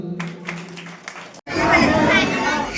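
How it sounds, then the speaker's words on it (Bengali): A voice speaks over a quiet room, then an audience at a school prize ceremony breaks into dense, sustained applause with chatter mixed in. "জোরে হাততালি হোক।"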